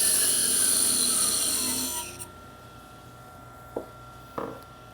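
A parting tool cutting into a spinning wooden toy top on a lathe, a loud steady high-pitched scraping whine for two seconds that then stops, leaving the motor's low hum and two faint knocks.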